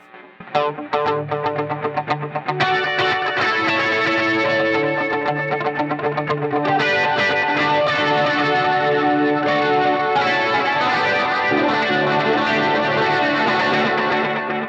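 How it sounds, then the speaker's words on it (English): Electric guitar with a warm, slightly wavering tape emulation effect at 15 IPS with wow and flutter, playing sustained chords and melodic lines continuously without any voices. "I'm emulating a tape speed of 15 IPS with the wow and flutter set to 2"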